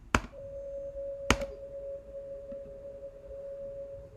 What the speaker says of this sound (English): So that's my fridge.